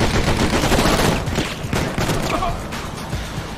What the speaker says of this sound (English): Get my gun out. And shoot the guys.